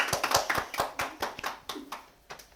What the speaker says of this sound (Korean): 우리 서로를 보면서 환영과 기쁨의 박수를.